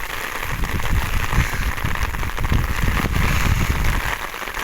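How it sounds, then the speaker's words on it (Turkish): Sudden rain shower outdoors in the mountains: dense, steady patter of raindrops on surfaces, a continuous close hiss with crackly detail and no voices. "Yağmur geldi."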